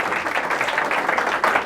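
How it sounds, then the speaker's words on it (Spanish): A church congregation breaks into loud, dense applause, a steady wash of many hands clapping together with a few louder bursts near the end. "Dele fuerte el aplauso"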